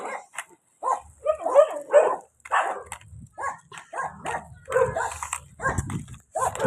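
Several dogs bark and yip in rapid, overlapping bursts nearby, with a few whimpering notes between the barks.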